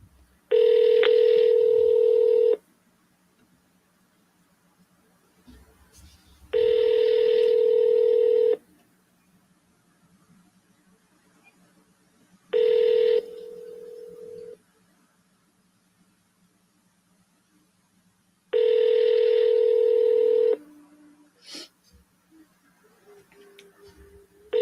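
A telephone call ringing out on the line: four long, loud electronic ring tones separated by silent gaps, with a faint click and a short lower tone near the end.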